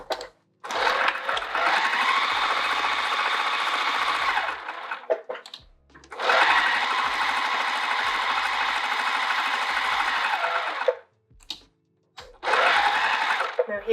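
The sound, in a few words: sewing machine stitching tote bag pocket edges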